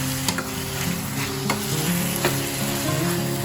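Chicken frying in a pressure cooker pan for a simple chicken curry, a loud, steady close sizzle with a few sharp stirring clicks throughout and no talking.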